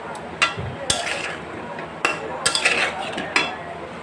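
Amra fruit pickle with salt, chili powder and sugar is stirred in a metal pan, with a utensil clinking and scraping against the pan in several sharp knocks over a soft cooking hiss, close by.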